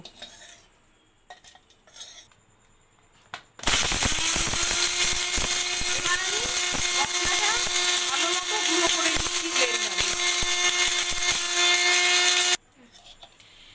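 A blender grinds dry-roasted spices for galouti kebab masala, a loud continuous whirring roar that starts abruptly after a few quiet seconds and runs steadily for about nine seconds before cutting off.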